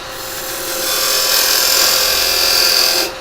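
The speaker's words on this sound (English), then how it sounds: "I'm going to come in and put a tenon on the bottom of that, and I'm going to use the carbide to do that." A wood lathe turns a tenon with a carbide tool, giving one continuous loud scraping hiss that swells over the first second and then cuts off sharply near the end.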